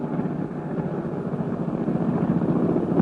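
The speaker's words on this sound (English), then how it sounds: "he got away in the plane." An aircraft drones steadily through the scene of a 1932 film serial, a loud continuous engine rumble with no voices over it.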